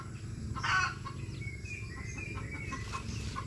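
Farm chickens, kept near a dog named Bagwis, cluck in a short burst near the start, then settle into softer scattered clucks over a steady low rumble of background noise.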